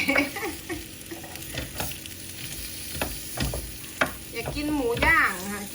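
Pork frying in a pan sizzles close by, mixed with scraping stirs and a few utensil clinks.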